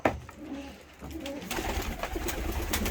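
Soft coos of Turkish balloon pigeons in a loft repeat under a steady rustling, flapping background, fairly close and moderately loud throughout.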